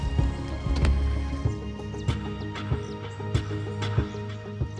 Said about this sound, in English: You can definitely feel the rain.